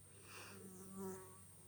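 A single fly buzzes faintly near the listener, its thin whine swelling and fading twice over a quiet indoor background.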